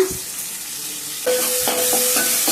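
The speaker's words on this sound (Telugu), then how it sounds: "ఇవి కొంచెం వేగితే మిరపకాయలు ఈ విధంగా ఎగితే చాలండి" Chillies frying in oil in a pan, a close, steady sizzle with a few sharp crackles and pops as they cook, no talking.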